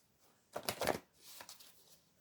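Tarot cards being shuffled by hand in a quiet room: a dense burst of papery riffling for about half a second, then a softer, lighter flutter of cards that trails off.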